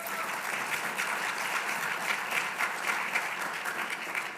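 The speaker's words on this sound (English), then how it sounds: "I want to just do another round of applause for them" An audience at a state engagement summit applauds the event organizers, a sustained, even roar of many hands clapping, moderately loud and continuous throughout, with no one speaking over it.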